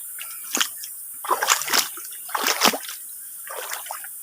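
Clear forest river water upstream of a hot spring splashes and sloshes in several irregular bursts with short quiet gaps, close by, with no talk.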